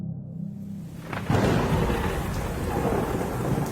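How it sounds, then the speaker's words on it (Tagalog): A loud thunderstorm with heavy rain: steady downpour hisses throughout, then a sharp thunderclap cracks in and rumbles on under the continuing rain, close and intense. "habang nagsasalimbayan ng malalakas na kulog at kidlat"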